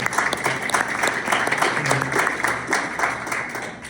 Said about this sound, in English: that social committee needs a round of applause for what they did